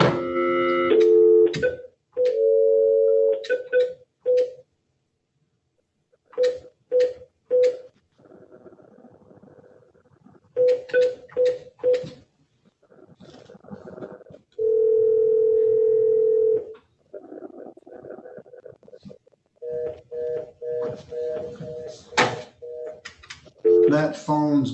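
A telephone placed from a district court during a sentencing hearing gives repeated dial and call-progress tones, steady beeps and sustained buzzes broken by short dialing bursts and pauses, loud and close with no speech over it.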